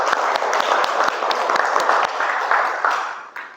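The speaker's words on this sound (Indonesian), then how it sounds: "Tepuk tangan untuk kita semua hari ini." A classroom of students claps together at the end of a mathematics lesson, a brisk burst of close, lively applause that gradually thins and fades toward the end.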